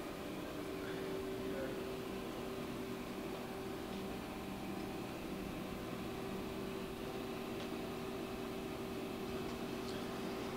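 Live tool running at 500 RPM on a Hardinge Quest 10/65 CNC lathe with 20.44-inch swing, a steady mechanical whine with a constant tonal hum over broadband machine-shop noise.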